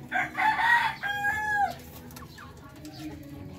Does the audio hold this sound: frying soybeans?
no